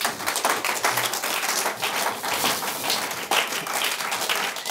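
A congregation in church applauds for Jesus during a French-language sermon: continuous, lively clapping from many hands, loud and even throughout with no voices above it.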